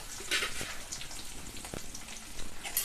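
Garlic, curry leaves and onion frying in oil for a tempering, a brief, fairly close crackling sizzle with a few sharp pops and spatters.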